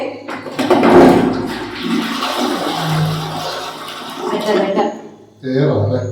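A toilet flushes up close with a loud rushing gush of water that swirls and drains, then a second surge of running water follows.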